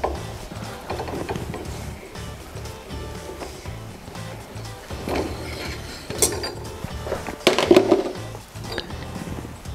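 Hand tool unscrewing the collar on a BMW E92 M3 limited-slip differential during a mechanical conversion, a steady run of close ratcheting and metallic clicks with a few sharper knocks near the end.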